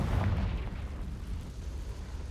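Confringo blasting spell detonating in Hogwarts Legacy, a deep booming explosion that hits at once and then rolls on as a low rumble for a couple of seconds.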